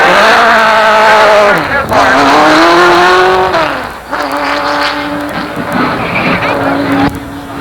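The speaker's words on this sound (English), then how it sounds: "He hits the inside retaining wall and causes this unbelievable chain reaction" Late model race cars at Jennerstown Speedway in 1988 pile up in a chain-reaction crash on the front straightaway. Loud engines rise and fall over tire squeal and skidding while an announcer talks over them.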